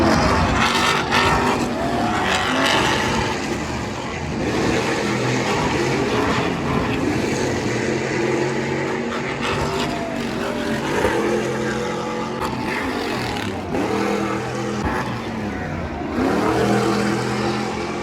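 Race cars at the Long Beach Grand Prix roar down the shoreline straight and over a double jump, a loud, continuous, close engine wail with shifting pitch as several cars pass.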